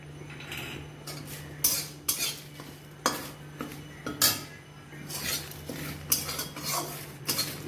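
A spoon stirs ground cumin and coriander into a pot of pachan, a Bengali bitter vegetable dish cooked without oil, for the Chaitra Sankranti festival; close scraping and clinks come in irregular bursts over a steady low hum.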